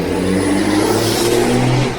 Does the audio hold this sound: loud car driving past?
yes